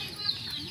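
Breeder Lemon Sweater gamefowl rooster, 10 months old, clucking softly and briefly at close range, a short low throaty sound with no talk over it.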